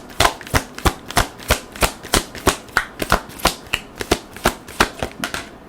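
A deck of reading cards being shuffled, a close run of about twenty crisp riffling snaps in a quick, fairly even rhythm, with no talk over it.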